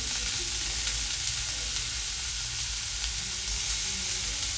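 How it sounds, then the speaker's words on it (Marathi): Onions sauté on a high flame while being stirred constantly, giving a dense, even sizzle and hiss that runs unbroken throughout, close and moderately loud with no talking. "कांदा चांगला गुलाबी रंगावर परतायचा आहे. सतत हलवत राहायचं आहे त्याला."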